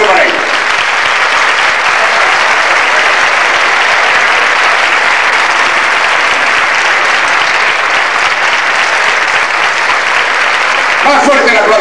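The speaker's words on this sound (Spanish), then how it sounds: "Un aplauso para ellos." Festival audience in a palace hall gives loud, sustained applause, a dense wash of clapping that holds steady throughout without speech.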